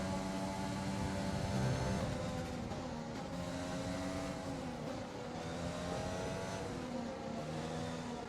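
Formula 1 race cars at the British Grand Prix, a continuous high-pitched engine scream with rising and falling revs as cars pass and shift, loud and unbroken across the whole stretch.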